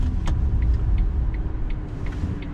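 A 2012 Smart ForTwo Sharpred Edition with a 71 hp 1-litre engine pulls away slowly, giving a low, steady engine rumble from inside the car with faint clicks over the top and no talking.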